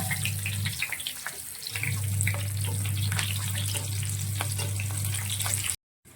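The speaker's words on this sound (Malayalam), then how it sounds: "നമ്മളിതേ മുളക് വറുക്കാൻ പോകുക ഇതിന്റെ കൂടെ കഴിക്കാനുള്ള. മുളക് നമ്മൾ ഇടുവാണ്." Chillies fry in hot oil for an egg bajji meal, a dense, continuous crackle and sizzle with a low steady hum underneath, cut off abruptly near the end.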